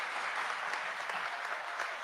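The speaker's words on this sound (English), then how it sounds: "Give her another round of applause." A town hall meeting audience gives a brief, steady round of applause for a young speaker, dense clapping with no voices over it.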